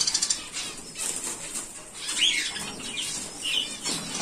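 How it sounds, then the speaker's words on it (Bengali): Small caged birds, budgerigars among them, flap their wings in brief, fluttering bursts while being caught by hand, with a couple of faint squawks and rustling close by. "রাজুদা পাখি ধরেছে,"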